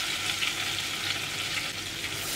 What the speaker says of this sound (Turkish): Kokusu çıkana kadar onu kavuracağım.